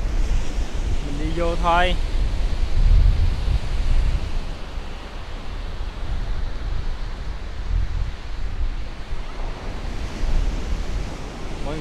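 Ocean surf rolls steadily onto a beach in Taiwan on an afternoon, a continuous close wash of breaking waves mixed with wind buffeting the microphone, with a brief voice speaking near the start.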